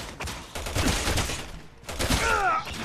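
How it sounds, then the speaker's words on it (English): Gunfire in the co-op game Resident Evil 6, dense bursts of rapid shots in two waves with a brief lull between, plus a whooshing effect near the end. "they're shooting at me"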